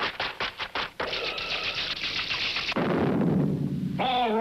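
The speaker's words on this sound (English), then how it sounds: "Fillmore, break down the door." In a Hoppity Hooper cartoon, a door is broken down: a fast run of sharp knocking bangs, then a loud crashing burst and clattering debris, ending with a brief squeaky rising tone.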